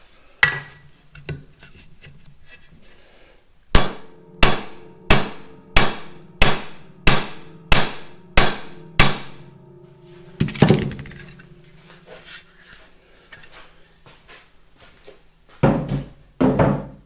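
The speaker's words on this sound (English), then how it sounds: "I'll trim these rivets to length, peen them over, and we'll make this piece permanent." Hammer peening trimmed rivets on a Caterpillar D2 diesel engine part: nine sharp, evenly spaced metallic strikes in a steady rhythm, close and loud, followed by a few scattered taps and clunks.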